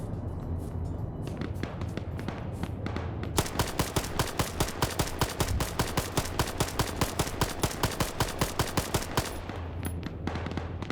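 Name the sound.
gunfire in a video game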